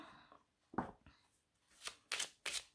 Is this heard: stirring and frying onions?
no